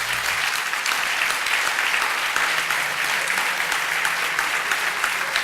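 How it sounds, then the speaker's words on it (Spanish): Sustained, dense applause from a large audience at a science talk event in Bilbao, loud and continuous without pause. "no aplaudan tanto que no nos dejan"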